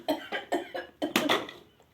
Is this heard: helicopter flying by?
no